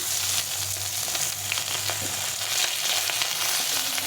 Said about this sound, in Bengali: সবটা মাছ দিয়ে দিলাম, দিয়ে ভালো করে ভেজে নিতে হবে।